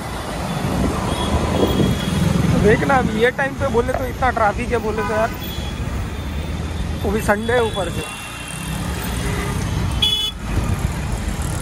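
Busy road traffic in Thane near Gaimukh, with a steady roar of passing cars and buses and a few short horn toots, under continuous conversation.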